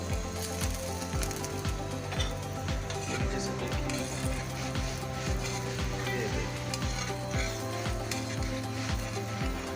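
Aloo paratha frying in ghee on a griddle makes a loud, constant sizzle, with repeated rhythmic scraping or pressing strokes over it and no talking.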